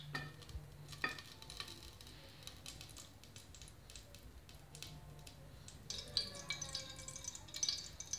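Ghee spooned into a hot pot while making Thalassery-style mutton dum biryani, giving a soft, steady sizzle with light stirring scrapes and a brighter crackle toward the end, close and fairly quiet.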